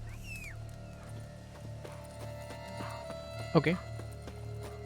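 Roach, Geralt's horse, clops along at a steady walk in a video game, soft regular hoofbeats under a low hum of game sound, with a brief spoken word near the end.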